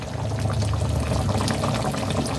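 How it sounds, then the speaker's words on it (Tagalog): Water poured into a dish of food cooking with oregano, a steady continuous splashing pour that runs close and fairly loud throughout, with no talk over it. "Kaya natin lagyan ng konting"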